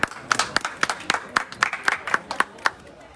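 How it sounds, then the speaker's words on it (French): A small crowd applauds at a birthday tribute in Yopougon, sparse individual claps sounding as distinct sharp cracks in an uneven rhythm, fairly close, with no talk. "Applaudissements."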